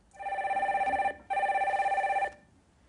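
A telephone on a radio call-in line rings twice with an electronic warble, each burst about a second long with a short gap between, clear and close.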